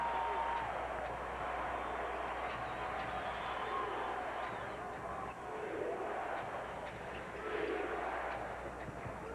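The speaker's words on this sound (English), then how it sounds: "Now the crowd back into it." Portland home crowd in a basketball arena at a Rockets vs. Blazers game roars in a broad, sustained wash that swells and dips, with a voice faintly under it.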